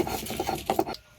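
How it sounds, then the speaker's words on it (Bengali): Fried mustard flowers are ground into a paste by hand in the traditional Bengali village way, making a steady series of rasping, scraping strokes up close that stop just before the end. "বন্ধুরা এবার আমি সর্ষের ফুলটা বেটে নেব।"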